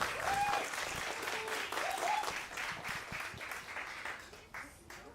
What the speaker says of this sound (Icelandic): Gefum þeim gott klapp, dómurunum.